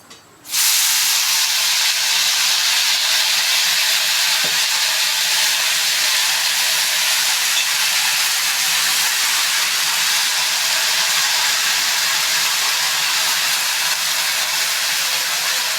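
Mint, green chili and ginger hit a hot kadai and sizzle loudly, a steady dense hiss that starts abruptly and holds on without a break.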